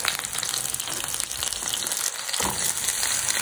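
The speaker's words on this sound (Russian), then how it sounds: "Нарезаем помидорчик и отправляем его на сковородочку." Sliced tomato sizzles in hot oil in a frying pan, giving a dense, continuous crackle close by with no talking.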